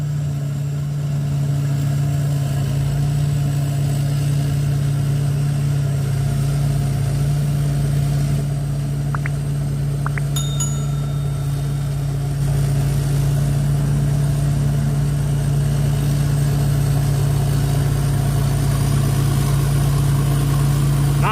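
A steady, low diesel engine of a 2022 Hino 270 truck with a turbo idles continuously at close range, a constant rumble with a faint higher whine and no voices.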